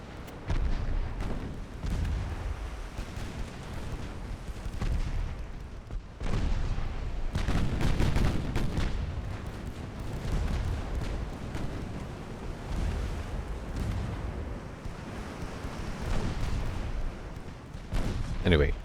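Heavy warship guns boom repeatedly in a naval battle game set in 1904, with a battleship and secondary guns firing on a destroyer; dull, rumbling blasts recur throughout under steady talk.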